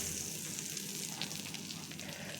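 A buttered bread sandwich sizzles in a pan, a steady, close, crackling hiss with small pops, with no talking.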